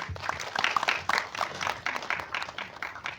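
A crowd claps in a lively burst of applause at a press conference for the horror film Kuyang, scattered hands building and holding steady for a few seconds.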